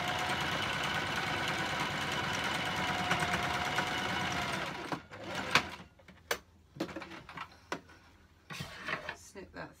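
A sewing machine stitches pajama bottoms beside the elastic waistband, running in a steady rapid whir for about five seconds before stopping, followed by scattered clicks and handling noises.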